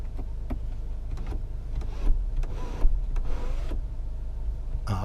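Sunroof tilting open in a 2018 Volkswagen GTI Autobahn Edition, a steady electric motor whir inside the cabin with a few soft clicks and mechanical bumps, close and fairly quiet.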